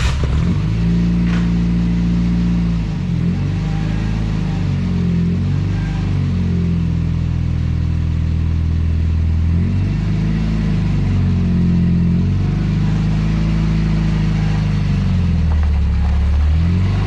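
A junkyard Chevy S10 pickup's engine revs on a test drive, loud and close, with repeated rising and falling surges over a constant low rumble.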